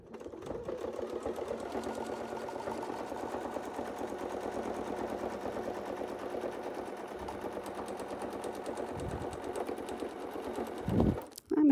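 A sewing machine stitches a quilt in a fast, steady mechanical rattle that runs nearly unbroken, stopping abruptly near the end.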